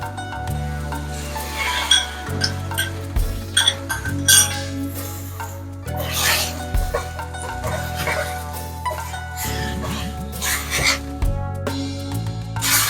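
Shrimp, broccoli and garlic sauce are stirred in a pan, with clinking utensil scrapes and soft sizzling coming in irregular bursts beneath steady background music.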